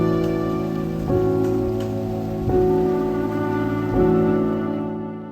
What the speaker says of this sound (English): And even when it rains